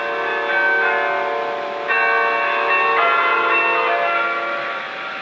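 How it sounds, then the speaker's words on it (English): Radio Netherlands interval signal: a sustained peal of bells ringing a melodic tune with overlapping, resonant tones, loud and continuous throughout. "Right now, we're going to start the bells."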